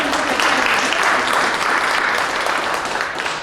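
A crowd at a campus awards ceremony applauds retirees, with loud, continuous clapping that stays even throughout and tapers slightly at the close.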